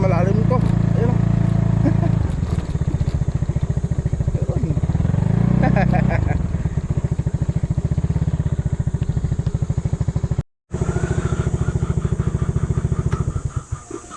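A motorcycle rides along a narrow rice paddy dike, its engine loud and close throughout, with a steady putter and shifts in revs. A voice talks over it, and the engine sound cuts out briefly near the end.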